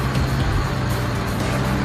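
A cartoon bulldozer's engine drones steadily, a loud, continuous low rumble as the machine drives toward a set of train tracks.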